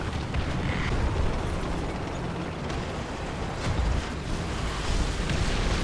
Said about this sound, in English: Shit, artillery.